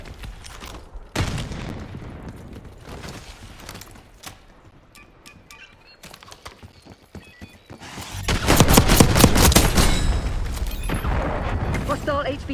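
Gunfire in the video game Call of Duty Black Ops 6, with scattered shots and bursts early on, then a loud, dense volley of rapid firing toward the end, under in-game radio voice chatter.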